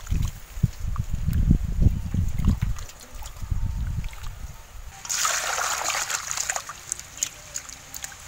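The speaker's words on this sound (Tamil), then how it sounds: "போய் தண்ணியில் அரைச்சி கழுவிக்கலாம்." Aloe vera gel is rinsed by hand in water, with sloshing and splashing up close at first, then a brighter trickling pour of water in the latter half.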